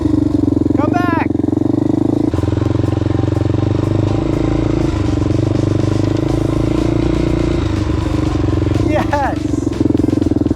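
A Honda 400EX ATV engine running steadily up close as a beginner learns to work the clutch, a constant loud idle with rattling and scraping, while people talk over it throughout.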